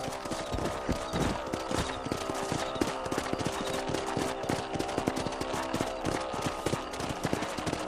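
Horse hooves clip-clop steadily while riding across a ranch in Red Dead Redemption, a rhythmic stream of hoofbeats layered with busy game music and ambience, fairly close and continuous throughout.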